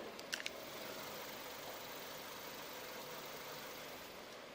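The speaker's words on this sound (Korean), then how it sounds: "LPG 연료를 사용을 하는 차량이다 보니까 워낙 조용한 엔진 소음 만나보실 수 있고요" A quiet, steady LPG engine of a Kia K5 LPI idles with a low even hum, faint and unchanging, after a couple of brief clicks at the start.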